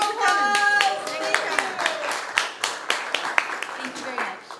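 At a West Hill Community Association summer quarterly meeting, an audience claps for the hosts: a run of distinct, crisp handclaps with a loose rhythm, mixed with voices talking over them.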